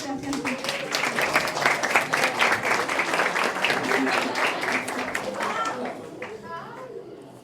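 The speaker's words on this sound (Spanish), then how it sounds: "un aplauso por favor para Sebastián" Secondary school students in a classroom or hall applaud a guest speaker with a burst of clapping and excited chatter and voices, which fades out toward the end.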